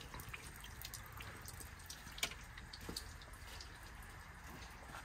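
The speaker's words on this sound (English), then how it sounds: "It's raining." Rain dripping outdoors at a workshop, a steady patter of drops with one sharper, louder drip standing out midway, no voices.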